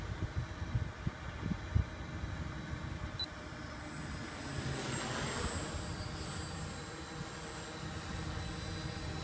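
An Arducopter drone flies in drift mode, its rotors giving a steady, fairly distant whine and whoosh that swells slightly mid-clip over outdoor background rumble.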